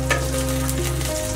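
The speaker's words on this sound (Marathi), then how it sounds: "चांगलं परतून घ्या आणि मिरची उकळू नये" Green chilies and garlic cloves sauté in oil in a pan for a Maharashtrian kharda chicken recipe, giving a steady, close, continuous sizzle with no one talking.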